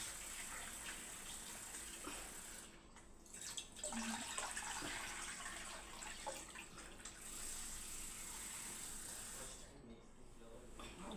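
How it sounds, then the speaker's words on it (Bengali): Potatoes being washed under running tap water in a home kitchen, a steady, close hiss of flowing water with faint splashing and light handling throughout. "দেখুন এবারে আমি আলুটা ধুয়ে নিচ্ছি।"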